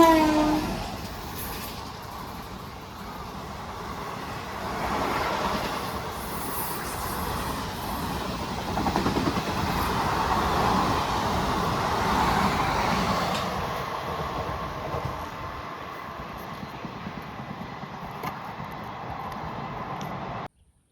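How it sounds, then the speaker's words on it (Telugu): Hyderabad–Sirpur Kagaznagar Intercity Express (17011) passing at speed through Kottapally station: a loud, sustained rush of rolling wagons with a horn sounding early, steady roar for most of the pass, then easing off as the train clears. "17011 హైదరాబాద్ సిర్పూర్ కాగజ్ నగర్ ఇంటర్సిటీ ఎక్స్ప్రెస్"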